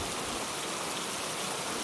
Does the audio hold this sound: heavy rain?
yes